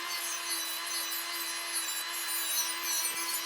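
Steady high-pitched grinding against a vintage iron during refurbishment, continuous and close with a constant tonal whine underneath and no pauses.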